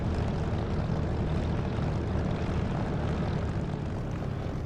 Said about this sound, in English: this is an engine sound that I've downloaded